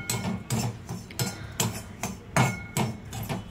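A spatula keeps stirring white sesame seeds roasting in a pan for a dry fruit laddu, making rhythmic scraping taps against the metal, about two per second, close and distinct with no talking.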